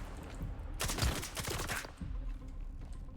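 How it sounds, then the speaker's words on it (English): Gunfire in the video game S.T.A.L.K.E.R. 2: Heart of Chornobyl, a dense burst of rapid automatic shots lasting about a second, loud and close over a steady background of ambient game noise. "I don't even know where you're shooting from"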